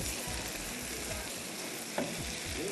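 Marinated chicken, seasoned with five-spice and chicken powder, fries in a pan with a dense, even sizzle that crackles steadily and close, with one brief clunk partway through.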